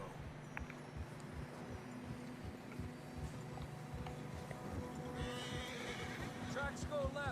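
Horses in Red Dead Redemption 2 trudging through snow, a steady muffled clip-clop of hooves under wind, with a loud whinny near the end; a voice talks over them.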